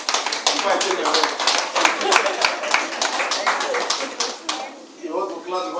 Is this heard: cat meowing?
no